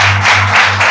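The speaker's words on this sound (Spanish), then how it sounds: "Yo quiero que usted aplaude al Señor esta mañana." A church congregation applauds during a morning service, a loud, dense burst of clapping that fills the short moment.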